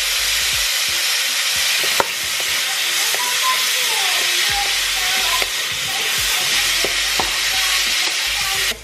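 Teriyaki sauce sizzles hard in a hot frying pan, a loud, bright, continuous hiss with bubbling spatter and a few sharp clinks of a utensil against the pan.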